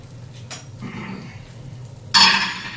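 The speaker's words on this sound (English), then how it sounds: "the eggs go away, the butter dish goes away." Kitchen cleanup after breakfast, with dishes being cleared away: soft handling noises, then a sharp, bright clatter of a dish or utensils near the end, close by and without talk.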